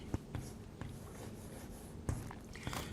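Someone writes the equation dv/dt by hand, producing faint, scratchy strokes and soft taps in short intermittent bursts over a quiet background.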